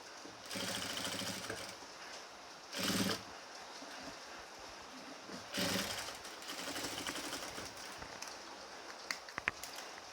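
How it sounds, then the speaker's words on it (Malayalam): Sewing machine stitching the back and shoulder seam of a round-yoke pleated nighty, a steady mechanical whirring run broken by brief louder bursts, close and alone with no talk. "ഷോൾഡറും കൂടി രണ്ടാമത്തെ സ്റ്റിച്ച് ഇട്ട് അങ്ങനെ അങ്ങോട്ട് പതിച്ചടിച്ച് കൊടുക്കും"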